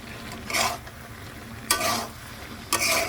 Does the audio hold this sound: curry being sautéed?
yes